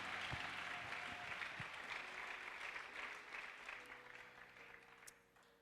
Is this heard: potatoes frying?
no